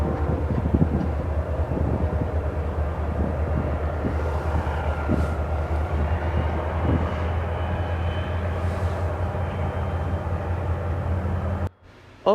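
A CN manifest freight train led by BNSF 5855 rolls into a Chicago-area rail yard. A loud, steady, low rumble of engines and rolling cars holds throughout with faint clanks, then cuts off abruptly near the end.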